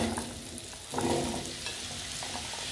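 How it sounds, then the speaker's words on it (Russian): Pieces of pumpkin sizzle and crackle in olive oil in a hot pan, with a stirring scrape and a swell of frying noise partway through. "Тыкву я обжариваю в течение 5 минут."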